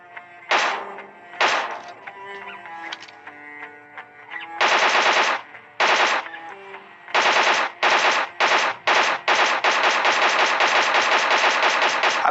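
Bursts of automatic gunfire in the battle royale video game PUBG, starting as short separated volleys and building into long, loud, continuous sprays with no talking.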